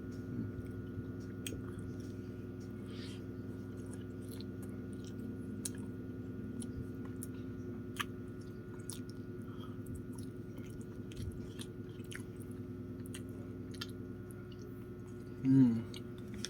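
Someone close by chews and eats longganisa with Mang Tomas spicy sauce, with soft, steady, wet mouth sounds and small clicks throughout and a brief louder bump near the end.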